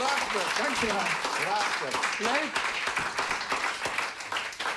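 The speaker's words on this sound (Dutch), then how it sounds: "Applaus, prachtig!" Audience clapping in a sustained, fairly loud burst of applause that continues throughout, with a person speaking enthusiastically over it.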